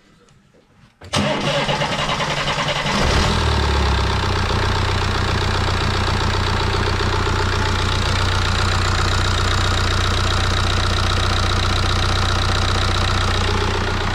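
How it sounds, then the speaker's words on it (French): A sick BMW N47 diesel engine, primed with fuel after a night teardown, cranks briefly, catches and settles into a loud, steady, even idle on all four cylinders, heard up close. "Et voir si le moteur il tourne déjà normalement."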